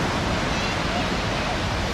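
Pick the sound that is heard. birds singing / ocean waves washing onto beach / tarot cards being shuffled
ocean waves washing onto beach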